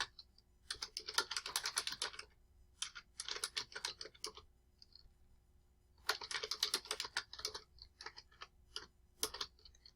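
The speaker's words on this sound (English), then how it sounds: "you have to type in a description that's going to help somebody else understand what you were doing" Quiet, close typing on a computer keyboard comes in several rapid bursts of clicking separated by brief pauses, with no one talking.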